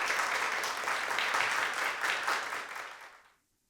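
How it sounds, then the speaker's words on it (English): A crowd at a TEDx event applauds steadily, a dense wash of clapping that holds for about three seconds, then fades out quickly into silence. "I want to give a round of applause"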